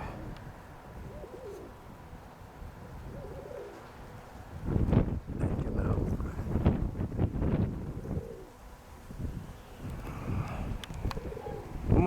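Pigeons coo softly in short repeated phrases, with wind buffeting the microphone and some rustling in the background.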